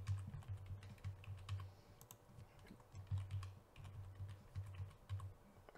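Steady clicking of keys on a computer keyboard as a new password is entered on a PC for a Hikvision DVR reset, the close, quiet taps running in irregular bursts throughout with no talking.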